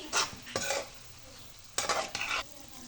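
Sausage filling with soy sauce and chili sauce being stirred in a pan: four scraping, clattering strokes in two pairs, each a short burst over a faint steady sizzle, close and fairly quiet with no talking.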